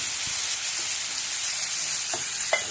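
Spice paste of ginger and chili, loosened with a little water, fries steadily in a pan with a continuous close sizzle, a few faint stirring scrapes and no talk, for a vegetarian white potato dum.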